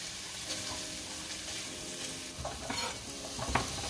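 Turkey leftovers sautéing in a pan, a steady low sizzle with stirring scrapes and a few louder clatters near the end, close by with no talk.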